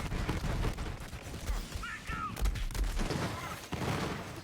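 Rapid Borderlands 3 gunfire cracks out in repeated sharp shots with scattered impacts, a busy, dense volley of in-game weapon fire at moderate level.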